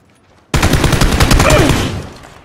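A loud sustained burst of automatic gunfire in PUBG, the battle royale video game, erupting suddenly after a brief quiet and rattling on rapidly for about a second and a half before cutting off.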